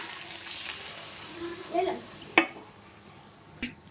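Water goes into a pan of sizzling country chicken curry: a steady frying hiss rises into a brief louder burst and a sharp clank of utensil on pot, then settles back to a soft sizzle with one more knock.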